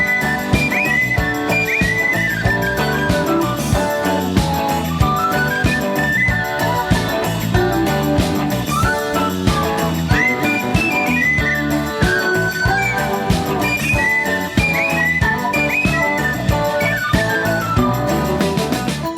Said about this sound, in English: that little penny whistle solo at like 148